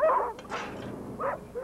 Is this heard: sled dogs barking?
yes